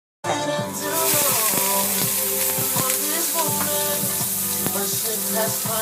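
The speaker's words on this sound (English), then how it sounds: "now I'm just going to cook them in the skillet" Fresh shrimp hitting a hot skillet, an abrupt loud sizzle that starts suddenly and keeps crackling and spitting steadily, with small pops and clinks throughout.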